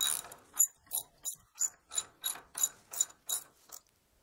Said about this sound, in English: I'll likely use my socket again just to help get that through